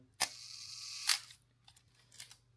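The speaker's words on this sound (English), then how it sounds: "Advance the film like that" Film advance lever on a Nikon F2, a fully mechanical film camera, being worked: a sharp mechanical click and a second ratcheting snap about a second later, close and crisp, followed by faint small clicks.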